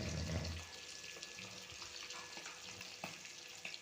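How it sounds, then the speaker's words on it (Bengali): Fish pieces sizzle in hot oil in a pan, a steady close crackle and hiss with some stirring clatter and no talking. "মাছগুলিকে সুন্দর করে লাল করে ভেজে নিচ্ছি"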